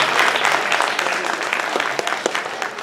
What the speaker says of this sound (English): Please give a round of applause for the Sai Kumar